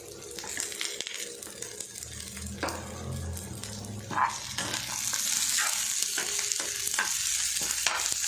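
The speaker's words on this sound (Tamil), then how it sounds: "வெங்காயத்து கூட மிக்ஸ் பண்ணி லைட்டாக வதக்கிடுவோம்" Garlic and ginger sautéed with onion in a pan for a chicken dish, a close frying hiss that grows louder and brighter midway, broken by spatula scrapes and taps.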